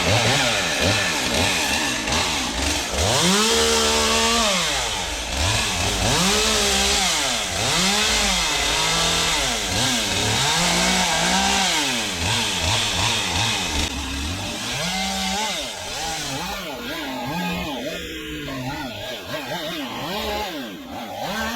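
A powered hedge trimmer cuts through an overgrown hedge growing through a fence, its motor whining loud and close and rising and falling in repeated surges as the blades bite into branches.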